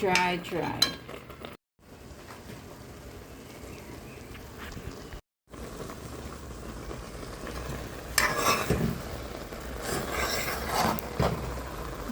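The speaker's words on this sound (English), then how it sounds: "Hear that sizzling sound? That means it's almost done" Food sizzles and crackles as it fries with ghee in a hot pan, a steady hiss with occasional stirring clatter that grows louder toward the end.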